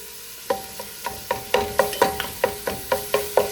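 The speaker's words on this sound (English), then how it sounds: "I'm just gonna get my meat really nice and smushed." Ground beef being pressed and broken up in a frying pan for spicy chili, a steady sizzle under a series of regular scraping, mashing strokes about every half second, close and fairly loud.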